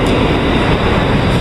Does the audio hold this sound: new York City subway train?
yes